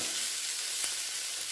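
Bitter gourd (uchhe/karela) fries in oil in a pan until browned, giving a soft, steady sizzle with a brief stirring tap partway through.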